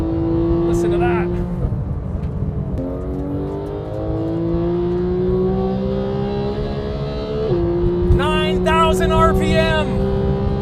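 Porsche 911 GT3 engine rising steadily through high revs toward 9,000 RPM, with a loud, continuous climbing wail, a brief gear change and more revving, with cabin noise around it.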